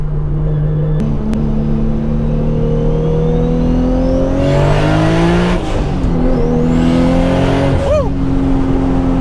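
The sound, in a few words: Toyota Supra engine revving while driving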